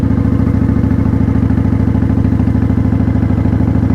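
A motorcycle engine pulses loud and close with a fast, even throb as throttle is fed in while riding, steady and unbroken with no talk.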